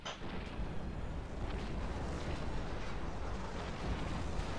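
Orbital assault explosions in the strategy game Planetary Annihilation, a dense continuous rumble of distant booms and blasts rolling on without pause, loud and steady throughout with no talk.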